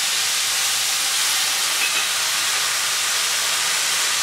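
Capsicum, onion and prawns frying in a pan with soy sauce, chilli sauce and tomato ketchup for prawn chilli, giving a steady, loud sizzling hiss that runs unbroken throughout with no talk.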